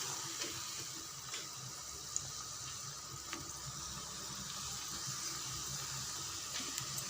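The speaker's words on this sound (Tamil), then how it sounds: "நல்லா பொரிஞ்சு வருது." French fries deep-frying in hot oil at home, with a steady, moderately faint hiss and crackle and occasional small pops throughout.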